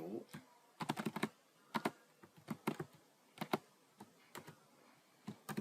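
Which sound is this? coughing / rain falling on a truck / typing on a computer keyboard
typing on a computer keyboard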